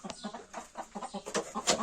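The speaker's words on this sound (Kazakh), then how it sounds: "Үй тауықтары." Chickens cluck close by in quick, choppy bursts, several birds overlapping in a busy, steady chatter.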